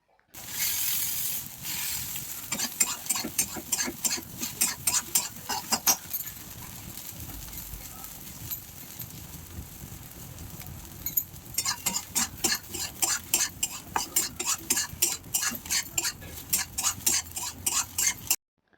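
Soya chunks fry in hot oil in a pan, close and fairly loud, with bursts of rapid crackling spatter and stirring scrapes that pause midway before resuming.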